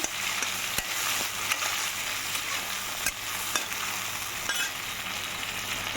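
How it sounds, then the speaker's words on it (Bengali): Onion and tomato frying in a pan for a chicken dish, a continuous bright sizzle with occasional sharp scrapes and taps of a spoon stirring against the pan, close and alone. "আমি এর মধ্যে এখন এই পেঁয়াজ টমাটোটা একটু ভেজে নেবো ভালো করে একটু লাল লাল করে একটু ভেজে নেবো নাড়িয়ে থাকি"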